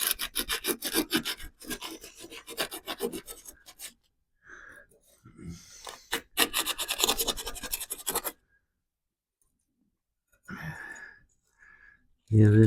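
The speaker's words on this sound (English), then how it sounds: "Just want to get a good scuff on this." A metal spoon fishing lure gets scuffed with 80 grit sandpaper, rasping back-and-forth scrapes in quick bursts with pauses, close up, while a person talks between strokes.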